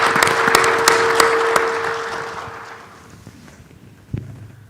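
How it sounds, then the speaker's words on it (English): A conference audience applauds after a speaker's introduction, a dense wash of clapping with a few distinct louder claps that fades out over several seconds, followed by a brief thump. "So please help me give her a round of applause and thank her for introducing everyone."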